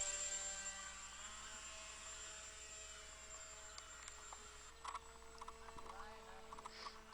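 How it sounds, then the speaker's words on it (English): A high, thin engine whine drones steadily at a distance from a model airplane on its maiden flight, circling overhead, with faint voices and a few knocks nearby. "This is the maiden flight of that particular airplane"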